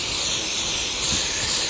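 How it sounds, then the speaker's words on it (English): Butter-flavored Pam cooking spray, a canola, coconut and palm oil blend, hisses onto a hot Blackstone griddle in one steady, close, fairly loud burst lasting under two seconds. "Butter flavored Pam."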